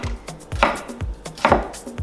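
A very sharp knife slicing through taco ingredients on a cutting board, with steady rhythmic strokes and a firm chop and scrape roughly every three-quarters of a second, close and clear.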